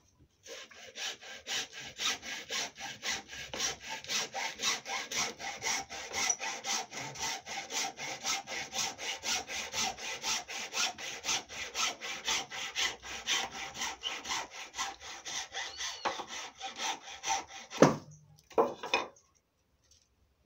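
A hand saw cuts the tip of a wooden stick, with fast rhythmic back-and-forth rasping strokes, steady and close for about seventeen seconds, ending in a few final strokes and a clack.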